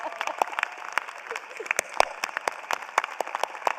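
Warm applause from the audience at a College of Social Work commencement ceremony, a steady patter of many hands clapping with a few louder claps standing out over the three or four seconds.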